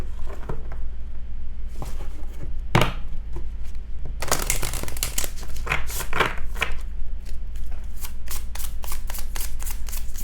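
A new, stiff deck of tarot cards is shuffled by hand in bursts of crisp riffling and flicking patter, close and fairly loud, with short pauses between passes.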